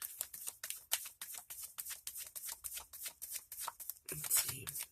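Tarot cards riffled and shuffled in a rapid run of crisp flicking bursts, close and fairly quiet, ending with a card slapped down and drawn with a brief soft rustle.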